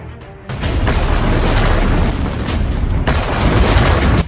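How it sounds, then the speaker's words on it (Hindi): A sudden, deafening drone explosion at the Barakah nuclear plant erupts into a sustained roaring rumble that stays loud for several seconds, with no voices. "यह ड्रोन धमाका बराका परमाणु प्लांट पर हुआ।"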